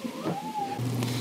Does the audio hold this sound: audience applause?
no